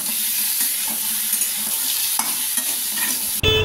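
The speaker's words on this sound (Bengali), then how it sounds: "আর আলু আর ঝিঙেগুলো দিয়ে দিলাম, এগুলো ভাজবো।" Potatoes and ridge gourd frying with lightly fried onions in a pan for a rohu curry, a steady loud sizzle with stirring scrapes throughout, ending in a brief clatter.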